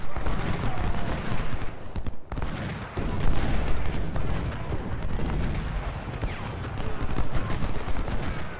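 An artillery salvo in a Civil War battle video game, at the Battle of Thoroughfare Gap, produces dense overlapping gunfire and cannon booms. The barrage is continuous and loud, with a brief dip before the volleys resume.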